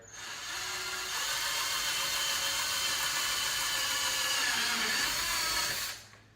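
A power tool sets a rivet in the front canard of a 6th generation Chevrolet Camaro, giving a steady, loud high-pitched whir that holds for about five seconds and then winds down, close up with no talking.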